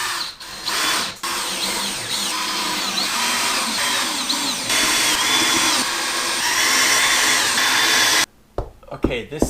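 A power drill drives screws into drywall, whining loudly and steadily for several seconds at a stretch with short pauses between bursts, then stops and leaves softer handling noise.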